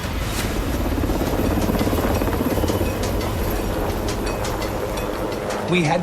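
A large, heavy helicopter flies over the Anjuman Pass in Afghanistan at about 4,500 metres, giving a continuous loud drone with a rapid throbbing rotor pulse that runs throughout.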